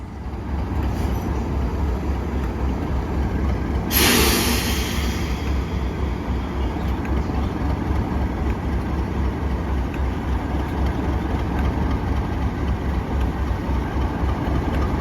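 An Avanti West Coast Class 390 Pendolino, 390.044 Royal Scot, passes through Watford Junction with a steady loud rushing rumble and a short bright burst of noise near the start, no voices.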